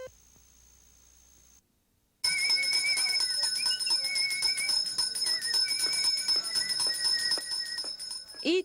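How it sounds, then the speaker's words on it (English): A Salvation Army bell ringer shakes a hand bell for holiday donations, a steady bright ringing that continues loudly after a brief silent gap. "Each year, the Salvation Army bell ringers ring up holiday donations for needy families."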